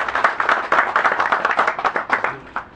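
Audience at an association event claps in a loose, rhythmic burst, individual hand claps distinct and fairly close, holding steady for a few seconds.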